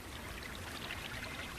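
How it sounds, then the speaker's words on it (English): A flowing river from an animated Samurai Jack episode babbles and trickles steadily, a soft, continuous stream of water heard faintly on its own with no voices. "from a flowing river"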